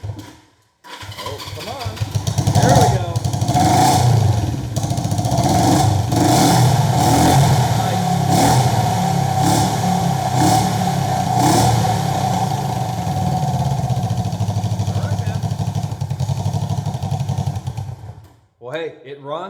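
A 1971 Honda CB350 cafe racer motorcycle cold-starts and runs, its engine revving in repeated rising bursts over a steady loud idle for most of the stretch before cutting off near the end; people talk underneath.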